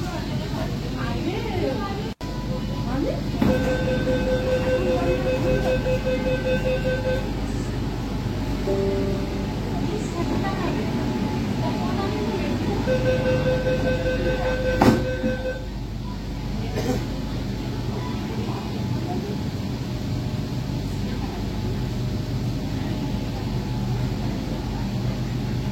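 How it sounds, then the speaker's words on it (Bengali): A Kolkata metro train pulls out of Mahakaran station and runs on toward Esplanade. A steady low rumble fills the carriage, and two bursts of electronic beeping tones sound partway through. "মহাকরণ থেকে আমাদের ট্রেন ছেড়ে দিল।"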